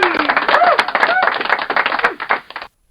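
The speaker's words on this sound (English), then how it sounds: "let's give a big round of applause for just the setup right now" A small group applauds a mobile podcast setup in a storage unit, giving quick scattered hand claps mixed with loud vocal whoops and shouts for about two and a half seconds before stopping abruptly.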